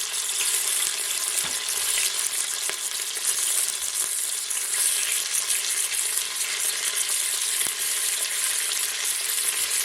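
Pieces of pork sizzle and crackle steadily in a hot pan for a cider pork sauté, a dense, continuous frying hiss with occasional faint stirring clicks, close and loud without any talking.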